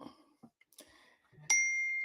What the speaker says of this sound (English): Oh, sorry, my notifications are on.